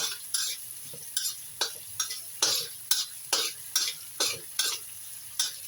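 Purple eggplant being stir-fried with garlic in a pan, a regular series of about a dozen sharp scraping stirs over a bright background sizzle, close and distinct, with no talking.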